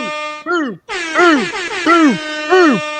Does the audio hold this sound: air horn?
yes